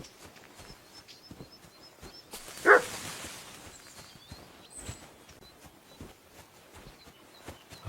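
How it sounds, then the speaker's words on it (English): A dog barking in the video game Kingdom Come Deliverance 2, one sharp bark standing out near the middle over a background of footsteps and faint ambient clatter. "barking. It's coming from over there."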